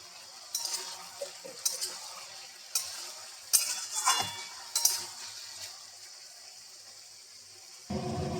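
Vegetables for labra, including pointed gourd, ridge gourd and greens stalks with salt and turmeric, get stirred in a pan, giving several sharp spoon scrapes and clinks over a soft sizzle before a louder low rumble at the end.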